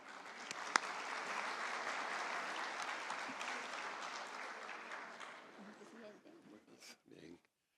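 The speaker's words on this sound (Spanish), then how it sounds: "recibámoslo con un fuerte aplauso" Sustained applause from a large audience welcoming the ANDI president at an agro-industry event, steady and full for several seconds before tapering off into scattered claps.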